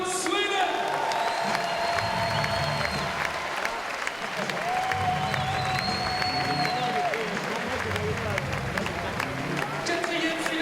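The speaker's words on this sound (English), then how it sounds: "Applaudissements pour l'incroyable Matilda Soderlund, Sweden." Sustained audience applause and cheering at a women's climbing world championship final in Paris, a dense continuous wash of clapping from a large crowd with an announcer's voice carried over a PA above it throughout.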